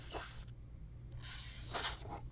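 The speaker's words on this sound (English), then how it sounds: "Oh, it does spray pretty good." Three short hissing bursts from a can of WD-40 Specialist Silicone Spray aimed into FPV drone plugs, spaced out with brief pauses between them, close and fairly soft.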